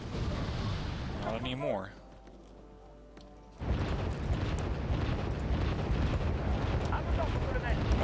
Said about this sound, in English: Yep, more mortar fire.